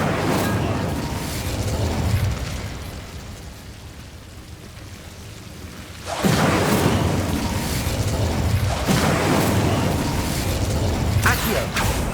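An Incendio fire spell cast in Hogwarts Legacy bursts into a loud, roaring whoosh of flame that suddenly swells and sustains after a quieter lead-in, with crackling pops through the blaze.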